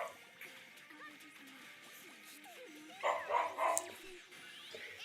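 Excited dogs bark and yip in a quick irregular series, a louder burst of barking in the middle, with soft whimpers and a faint voice in the background.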